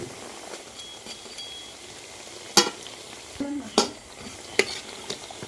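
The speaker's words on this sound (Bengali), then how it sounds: "লাল লাল করে ভেজে নেব" Semolina sweets deep-frying in plenty of oil give a steady fizzing sizzle, broken by a few sharp clinks and scrapes of a spoon against the pan; no talking.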